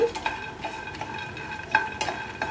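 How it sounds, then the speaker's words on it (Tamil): Raw peanuts are dry-roasted and stirred in a pan, with soft scraping and light rattling clicks repeating irregularly at close range. "பச்சையான வேர்க்கடலை தான் போடுறேன். நல்லா வறுத்துக்கலாம். கைவிடாம நல்லா வறுத்துக்கோங்க."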